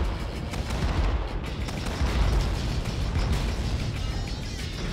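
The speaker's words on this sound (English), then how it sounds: "Oh, the artillery is so nice." Artillery fire in Command & Conquer Remastered makes a dense, continuous rumble of booms and explosions that stays loud and steady, with no talk over it.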